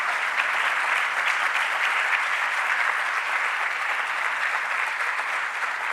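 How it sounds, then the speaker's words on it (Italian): Audience at a health forum in a congress centre in Veneto bursts into sustained, even applause, a dense hall-filling wash of many hands clapping without pause for six seconds. "Ecco questo applauso che abbiamo battuto"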